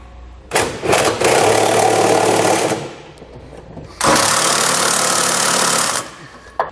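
A powered ratchet or impact-style tool tightens bolts on a 2019 Ford F-350 Super Duty truck bed in two loud, close, sustained whirring bursts of about two seconds each, with a short pause between them.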